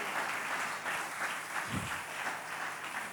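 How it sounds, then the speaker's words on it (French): A church congregation applauds the Lord with steady, fairly distant clapping that forms an even wash of sound throughout. "tu acclames très fort pour le Seigneur"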